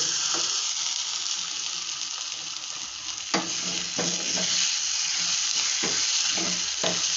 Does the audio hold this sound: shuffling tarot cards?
no